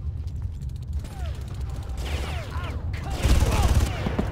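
Rapid mechanical gunfire from a Far Cry minigun emplacement in a first-person shooter, a dense continuous rattle swelling louder toward the end, with a narrating voice over it.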